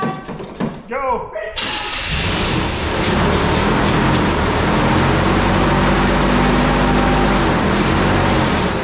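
A 1983 Chevy K10 Scottsdale engine cranks and fires right after a new wiring harness install, then settles into a loud, steady run close by; voices talk briefly before it catches.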